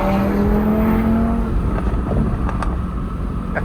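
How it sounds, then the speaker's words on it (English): An Audi TT RS with a stage 2 engine tune accelerates past on the road, a loud, continuous engine roar with a rising whine early on, heard without any talking. "We got to show them what the real TTRS sound like."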